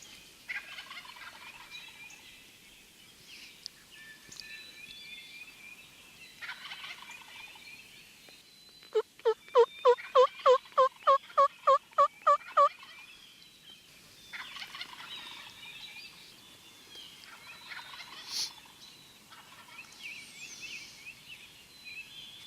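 Wild turkeys call in the trees at a May hunt, a loud rapid gobble rolling out in the middle between softer, scattered yelps and clucks, with no talk.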